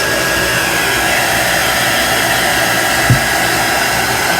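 A hair dryer blows loud and steady, drying fresh paint on a vintage truck, a continuous close whoosh with no talk over it.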